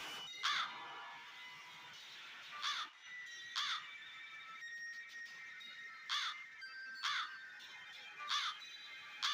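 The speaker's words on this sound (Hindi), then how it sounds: "इस कौवे को मारना पड़ेगा। कब से काव काव करे जा रहा है" A crow caws repeatedly, six or seven harsh calls spaced a second or two apart, fairly clear against a quiet hiss-filled background.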